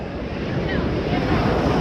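Big ocean waves roll in with a constant, loud roar of surf, heavy wind buffeting the microphone throughout.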